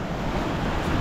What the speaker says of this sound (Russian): И волна, смотрите, как бьет.